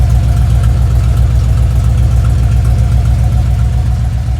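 A 1993 Dodge Ram W250 truck engine idles steadily through a newly fitted muffler after the catalytic converter was removed, a close, even low rumble with a constant pulsing beat and no pauses.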